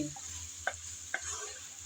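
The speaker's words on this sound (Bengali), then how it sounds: "এখন ঢাকনা উল্টিয়ে আবারও একটু নেড়ে চেড়ে মিশিয়ে নিচ্ছি" Taro stolons (kochur loti) cooking dry without water in a pan under a soft steady sizzle, with two distinct scraping stirs of a spoon.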